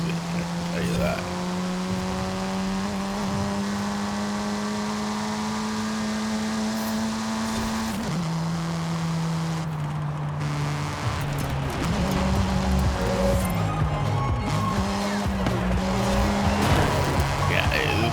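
A car engine drones and shifts pitch through gear changes in Forza Horizon 5, with tire squeal woven in, loud and continuous for the whole stretch.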